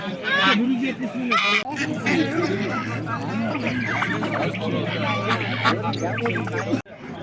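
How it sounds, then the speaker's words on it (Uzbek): Geese or ducks honk and quack repeatedly at a busy poultry market in Fergana, close by, with people talking over them and a steady hum underneath. "Saqildoq o'rdaklar"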